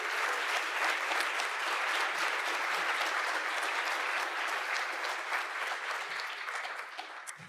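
Steady, sustained audience applause at a Project and Community Workshop plenary session, a dense wash of many hands clapping at moderate distance that tapers slightly near the end.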